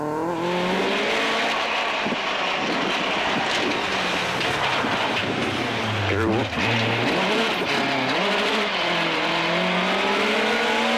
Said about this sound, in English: Damian's Class 13 machine is just a couple of seconds off the Class 14 Escort of Collins.